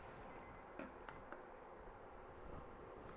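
A kitchen alarm gives a short run of faint, high electronic beeps at the start, then a couple of isolated beeps before fading into quiet room noise.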